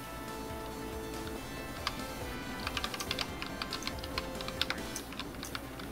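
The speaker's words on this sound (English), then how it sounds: "Oh, I'm like typing." Typing on a computer keyboard during a Duck Game session, a quick irregular run of clacking keystrokes under game music and background sound, close and moderately loud.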